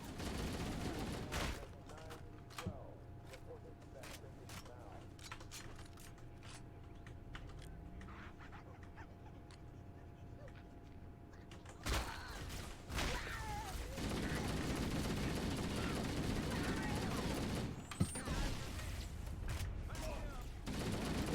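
Gunfire in the Halo: MCC video game, bursts of rapid automatic shots and sharp single cracks mixed with game ambience, growing denser and louder in the second half, with people talking intermittently.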